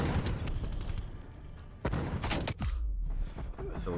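Gunfire in a first-person shooter video game: a rapid string of sharp shots and heavier booms, loud and close, with brief pauses and a deep thump near the end.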